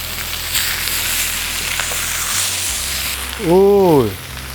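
Loud, steady sizzling of a dry-aged steak searing in a hot pan; a short voiced exclamation rises over it near the end.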